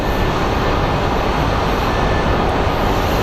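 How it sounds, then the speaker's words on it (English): A FedEx Boeing 777 cargo jet takes off from Memphis with a loud, steady engine roar, broad and unbroken, that holds close and powerful throughout without any voices. "So we have our FedEx 601 departing from Memphis. It's operated by Boeing"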